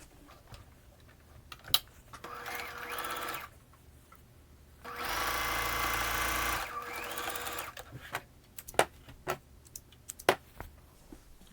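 A sewing machine stitching patchwork from old jeans, two sustained whirring runs of stitching, the second louder and steadier, with scattered clicks and taps between and after.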